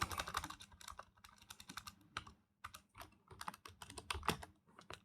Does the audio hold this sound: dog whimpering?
no